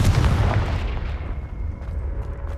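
A loud, booming fire-spell blast in Hogwarts Legacy erupts at once and rolls into a long, rumbling decay that fades slowly over the next couple of seconds.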